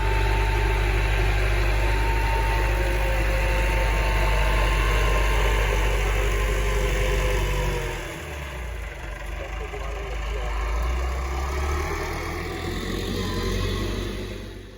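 A tractor engine idles nearby with a loud, steady low rumble and vibration; the tone dips briefly midway, then settles back into the drone.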